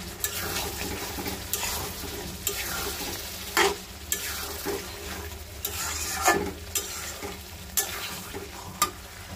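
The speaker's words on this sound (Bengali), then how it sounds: "আমি কলিজা কষাই নিতেছি" Liver curry fries and sizzles in a pan as it is stirred, with a continuous hiss broken by irregular scraping knocks of the spoon every second or two; close and fairly loud, with no talking.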